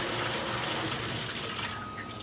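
Water pours steadily into and over a vintage dishwasher as it is filled past its normal level, a loud continuous gushing rush like a running tap that eases slightly near the end.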